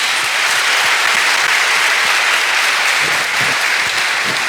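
A church congregation at a Catholic Mass breaks into loud, dense applause, a sustained roar of clapping filling the space evenly for several seconds.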